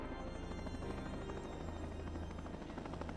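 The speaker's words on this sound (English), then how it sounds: "A helicopter's coming in." A helicopter in the tactical shooter Ground Branch drones steadily with a continuous rotor thrum, loud and sustained with no talk over it.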